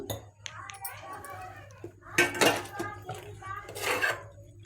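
A spoon clatters and scrapes against a metal pot while toor dal and cluster bean stew is stirred, with irregular bursts of clinking close by and a voice faintly in the background.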